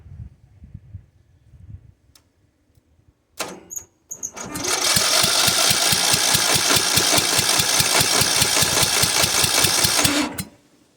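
A Murray riding mower engine with its exhaust manifold removed cranks briefly, then catches and runs loud and raw with a rapid, rough, even chatter close by for about six seconds before cutting off abruptly.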